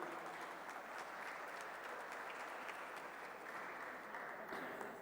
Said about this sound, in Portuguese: eu quero aproveitar e pedir uma salva de palmas para o presidente Jorge Felipe